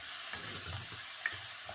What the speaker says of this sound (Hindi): अब ये जो मसाला बनाया ना, इसको मैंने फ्राई करना है इसमें